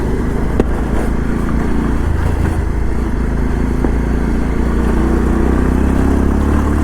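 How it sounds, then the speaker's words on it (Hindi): Modified old-model Bajaj Pulsar 200 DTSI motorcycle, 200 cc, idles and revs loudly right beside the exhaust, a steady deep rumble with a slight rise toward the end. "सुनिए आपको आवाज़ तो आ ही रही होगी इसके टॉर्क की, इसके एग्जॉस्ट की"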